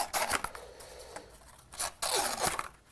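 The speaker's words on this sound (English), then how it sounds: "I'm just gonna grab here and use a pair of scissors" Scissors cut what may be paper or craft material for a kids' craft activity, making short rasping snips close by. Two bursts come in quick succession, with a quieter pause between them and no talking.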